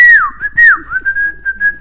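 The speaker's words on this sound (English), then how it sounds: "by whistling" A person whistles loudly and close, a few sliding, swooping notes followed by a steady run of short repeated tones, alone with no talking.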